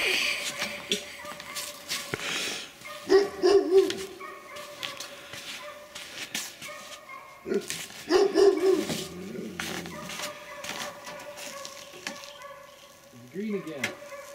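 Dogs bark outdoors in winter in two short bursts of several yelps each, heard over a noisy background with a person talking intermittently.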